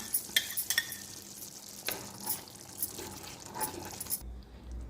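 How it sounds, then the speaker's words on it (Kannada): A spoon mixes corn and capsicum masala with fresh cream in a pan, giving repeated close scrapes and wet stirring sounds over a gentle sizzle before stopping abruptly near the end. "1 ಸ್ಪೂನ್ ಫ್ರೆಶ್ ಕ್ರೀಮ್ ಇಷ್ಟು ಹಾಕ್ಕೊಂಡು ಮಿಕ್ಸ್ ಮಾಡ್ಕೊಳ್ಳೋಣ."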